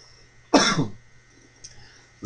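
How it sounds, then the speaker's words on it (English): One short, harsh cough rings out close to the microphone, followed by quiet with faint background hum. "cold has left me, but it's left me with a bad cough."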